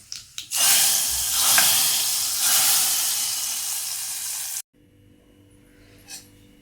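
A hot fried tempering poured into cooked dal bursts into a loud, close hissing sizzle that holds steady for several seconds and then cuts off abruptly, leaving near silence.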